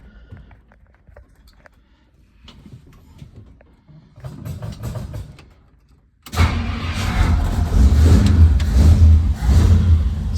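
A 1964 Ford Galaxie with no choke starts, its engine coming on abruptly after quiet clicks and cranking, then revving loudly and unevenly as the gas pedal is held and pumped.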